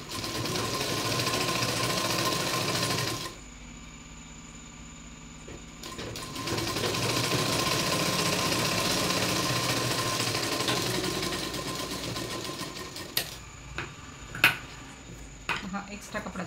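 A sewing machine runs in steady bursts, stitching lace onto a boat neck blouse. It whirs loudly and evenly, stops briefly, then starts again, and later gives way to small handling clicks and taps.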